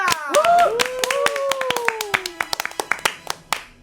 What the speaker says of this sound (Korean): 먼저 축하 박수부터 시원하게 해드릴게요